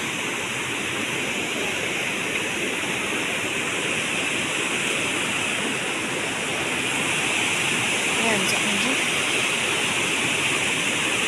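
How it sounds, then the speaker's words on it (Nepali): Water rushes down from above near a bridge in a Sikkim village, a loud, continuous broadband roar that holds steady throughout with no voices. "एकदम पानी हो, माथिदेखि आउँछ गाइस"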